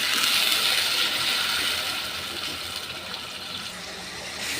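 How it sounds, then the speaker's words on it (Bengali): A small splash of water pours steadily into a pan of bhata fish cooking with tomato as a bhuna curry, a close, even rushing hiss that slowly eases, with no voices. "হালকা একটু পানি দিব।"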